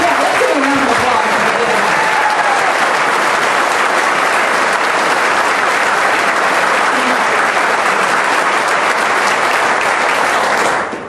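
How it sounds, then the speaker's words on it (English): A crowd breaks into loud, sustained applause, a dense roar of clapping that holds steady for about ten seconds before cutting off, with a voice briefly heard over it at the start. "let's give a round of applause."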